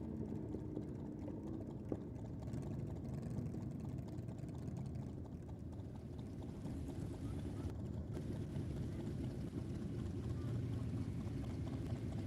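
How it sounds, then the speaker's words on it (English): A Harley-Davidson motorcycle idles lumpily at a drag strip, picked up by distant track microphones as a low, uneven, loping rumble that runs continuously under commentators' voices. "Lumpy Idol, the Harley we can hear on the track on the track mics"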